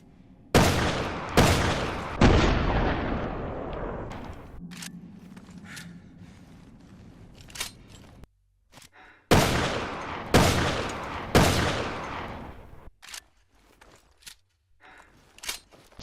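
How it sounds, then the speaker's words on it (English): Python magnum revolver from the Resident Evil Revelations 2 video game firing five loud, booming shots in two spaced bursts, with the reverberating tail of each shot decaying, a reload in between, and quieter mechanical clicks near the end. "let's test the Python out"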